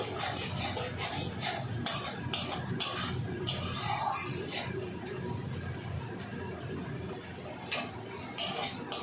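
Onion and katla fish masala stirred in a pan over a low gas flame, with a steady metallic scraping and clinking of the utensil against the pan, continuous and fairly close.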